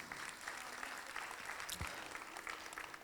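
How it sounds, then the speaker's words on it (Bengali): Audience applause at a felicitation ceremony for distinguished guests, honoring an artist named Jayashree: dense, steady clapping from a crowd that fills the whole stretch at an even level. "একটু জোরে জয়শ্রীর জন্য হাততালি হয়ে যাক প্লিজ"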